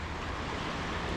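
Fast-flowing river water running high between steep banks near a rail bridge over the Rouge, a steady, loud broadband rush with constant turbulence and no pauses, close to the microphone with no talk.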